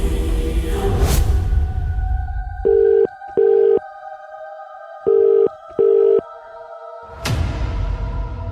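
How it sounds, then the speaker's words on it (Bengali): A telephone ringback on a call to a forest office: four evenly spaced beeps in two pairs over a low steady tone, framed by bursts of louder noise at start and end. "একবার ফরেস্ট অফিসে ফোন করে নি"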